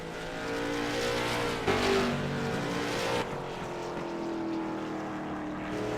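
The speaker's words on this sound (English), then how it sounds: "Have a few cars out there still turning some laps." Race cars lapping a circuit during a broadcast, engines droning steadily with a continuous mid-distance roar that swells briefly around the middle as a car passes closer, then settles back.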